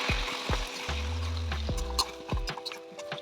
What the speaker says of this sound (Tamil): சிக்கனுக்கு தேவையான சால்ட்டு சேர்த்துட்டு நல்லா வதக்கி விடலாம்.